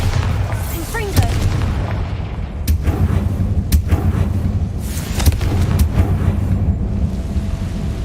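Sharp booming blasts from the Bombarda explosion spell in Hogwarts Legacy, several loud hits spaced a second or so apart over a rumbling game background, with spoken spell incantations in between.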